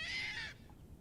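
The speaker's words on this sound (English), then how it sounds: "That is the weirdest sounding bird." A bird with an odd, unusual call gives a single loud, rising harsh cry for about half a second at close range, followed by quiet outdoor background.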